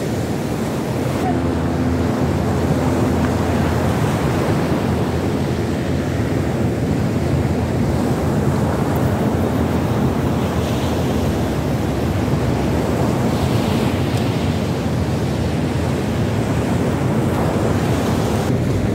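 Waves breaking on a beach at Menagarbón in a strong levante wind, a steady, loud roar of surf mixed with heavy wind buffeting the microphone.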